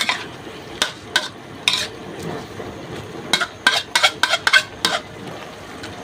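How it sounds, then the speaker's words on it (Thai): Pork offal stir-fry in a pan, simmering and sizzling with a low bubbling hiss, interrupted by a series of sharp scraping and clinking strokes of a spatula against the pan, uneven in rhythm and close by. "เดือดแล้วพี่น้อง เดือดแล้ว"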